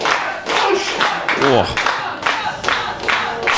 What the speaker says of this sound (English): Crowd here just strongly behind the great George.